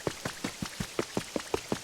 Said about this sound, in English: it's raining, so why are you taking a shower outside while it's raining